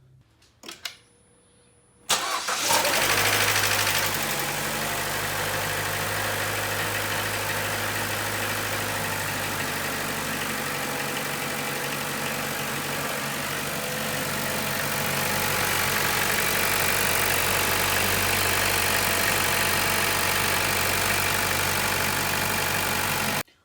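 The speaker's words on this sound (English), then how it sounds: "So I'm going to go ahead and start the car now." A Chevy Cruze's engine cranks and catches, then settles into a steady, loud idle that continues without a break.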